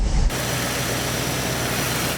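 An Audi A8 D3 engine runs at idle with vibration carrying into the body, a steady close, low droning hum that holds evenly after a brief bump at the start.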